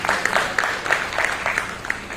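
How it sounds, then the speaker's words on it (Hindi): Applause from an audience welcoming a poet at a Hindi kavi sammelan and book launch, moderate in level, with steady broadband clapping and a few sharper claps standing out across the short stretch. "जोरदार तालियों से स्वागत कीजिए"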